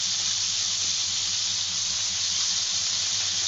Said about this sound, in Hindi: अब ये देखिए, ऑयल गर्म हो जाए तो ये हम प्याज डाल देंगे और प्याज को अच्छी तरह करेंगे फ्राई